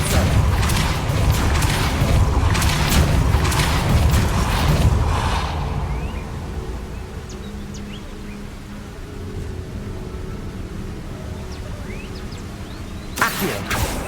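Spell effects cast in Hogwarts Legacy, a loud dense burst of crackling, booming magic for several seconds, then a quieter stretch with faint chirps before another sharp hit near the end.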